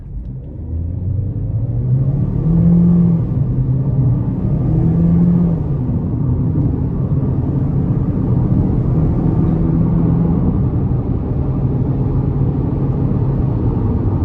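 A 2026 Chevy Equinox 1.5-liter turbo engine rumbles loudly from inside the cabin, its tone rising and swelling in a few surges as it gains speed under partial throttle.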